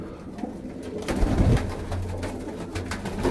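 Low, rolling coos from several Punjabi Malwai pigeons close by, with a brief scuffle of flapping and rustling partway through.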